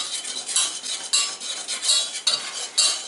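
Flour being toasted in a pan for a small batch of béchamel, to go into Christmas stuffed hake: a soft, steady scraping of a utensil against the pan bottom in repeated strokes, with light clinks and no talking.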